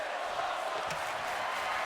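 Atlanta wrestling crowd cheering and shouting, a steady distant roar of massed voices that holds at the same level all the way through.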